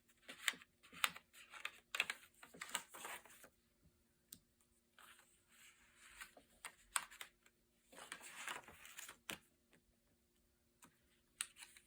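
Micro note paper pages, some clean and some wrinkly and antiqued, being flipped by hand: bursts of soft papery riffling and crisp ticks come in uneven clusters, close and quiet, with brief pauses between.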